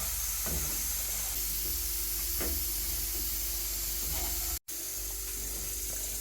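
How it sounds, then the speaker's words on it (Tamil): Steady, dense sizzling hiss of food frying in hot ghee, continuous and close, with a few faint clinks and a brief dropout near the end. "நான் நெய் ஊற்றி தான் பொரிக்கிறேன்"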